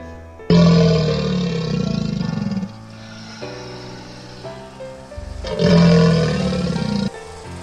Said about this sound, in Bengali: এটি কুমির, এটি কুমির।